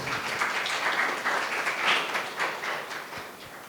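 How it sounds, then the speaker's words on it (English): Audience members at a Women's Day panel discussion applaud themselves, a crowd of hands clapping in a steady burst that swells slightly midway and then eases off, heard without talk. "Now give yourselves a big applause."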